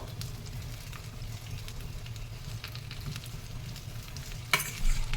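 Cumin, green chillies and spices being stirred into a little oil in a pan for carrot chutney, a steady soft sizzle with a sharper scrape of the spoon near the end, no talking.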